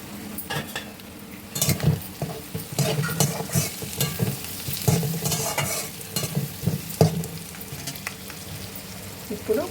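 Green chillies, onions and curry leaves fry with turmeric in a pan for palak dal, a sizzle under repeated scraping stirs of a spoon against the pan, close and uneven in rhythm.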